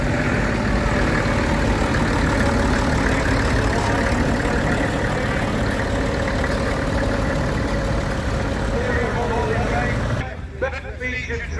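A classic Massey Harris tractor engine idles at a country show with a steady, rumbling chug that cuts off sharply near the end, while someone talks over it.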